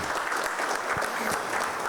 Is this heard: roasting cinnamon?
no